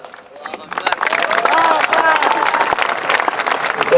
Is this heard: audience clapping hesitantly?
yes